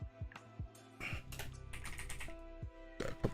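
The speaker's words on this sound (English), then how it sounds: "So I had to move my keyboard away." Computer keyboard shifted and bumped around on a desk, with scattered clattering knocks and a few brief key taps, fairly close, amid a quiet hum.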